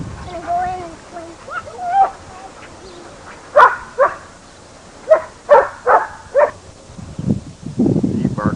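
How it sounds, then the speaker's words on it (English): A three-year-old dog barks repeatedly outdoors at a birthday gathering, loud close yaps in an uneven run of single and paired barks, with people talking at the start and a rustling scuffle near the end. "What are you barking about"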